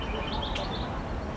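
Birds chirp outdoors in San Francisco among large plants, a few short, light tweets rising briefly over a continuous hiss of ambient noise.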